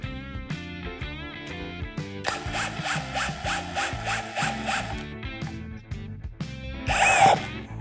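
A Procraft CD20B cordless drill drives a 200 mm screw with a rhythmic, ratcheting whir that climbs to a steady high-pitched spin, then stops, followed by a brief sharp squeal near the end.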